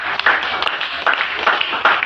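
A church congregation clapping for Jesus, several bursts of hand claps at an uneven rhythm, fairly loud and close, with no voices over them.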